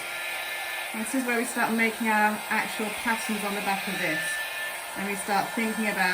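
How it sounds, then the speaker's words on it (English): A hair dryer whirs steadily, blowing alcohol ink across glass for a stained-glass-style cupcake stand, running continuously beneath a person talking throughout. "And then we're going to do some blowing around using the dryer."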